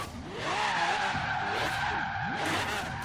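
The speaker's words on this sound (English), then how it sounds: "It just wants to spin those back tires, even though as fat as they are." Fat rear tires of a twin-turbo V12 Charger Daytona spin and skid in Forza Horizon 3, a sustained loud screech with wavering pitch over a revving engine.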